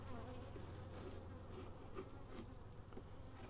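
Honey bees in a hive in the central Texas Hill Country produce a dense, continuous buzzing drone, steady and close, with no other sounds.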